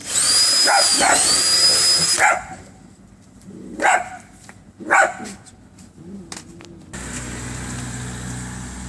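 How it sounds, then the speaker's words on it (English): A dog barks in the background of a workshop while holes are drilled for a gravity deer feeder, a few separate barks after a loud drill whine, followed by steady mechanical hum. "That's my killer dog in the background."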